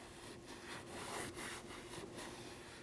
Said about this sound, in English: You're going to need a microfiber cloth and some rubbing alcohol. Go ahead and clean the surface.